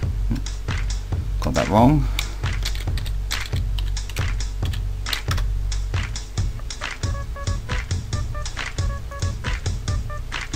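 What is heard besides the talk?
typing a password on a computer keyboard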